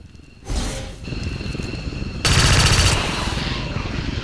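Soldiers fire in the video game XCOM 2, with loud rapid bursts of automatic gunfire that build into a denser volley, close and sustained.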